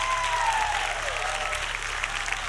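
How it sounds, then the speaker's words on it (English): Audience applauding at a Rainbow Six Siege panel during the finals event, a sustained round of crowd clapping with a faint voice and tone sliding underneath. "Please give a big round of applause."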